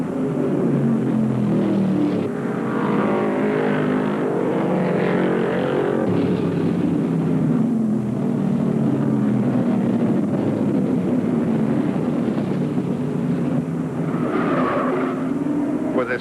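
1975 NASCAR stock cars, including a number 11 Nova, racing in the Dogwood 500 at Martinsville Speedway, a continuous engine roar rising and falling as cars pass, with the sound swelling again near the end.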